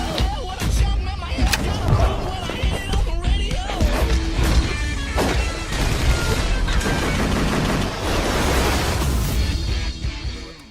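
Dense, continuous gunfire from the 2013 action movie Force of Execution with Steven Seagal: rapid automatic bursts and crashing impacts fill the whole stretch, with indistinct shouting mixed in.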